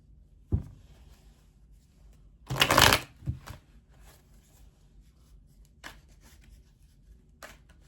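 Tarot cards being shuffled, heard as a loud riffle burst near the start of the clip, followed by a few lighter card taps and slides. The sounds are close in a quiet room with no talk.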